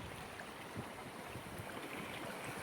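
Steady broadband rush of water pouring down at a village waterfall, a continuous, even roar close by with no voices.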